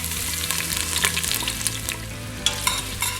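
Onions fry in sun-dried tomato oil with a dense, loud, continuous sizzle close by, broken by occasional stirring scrapes, and no talk.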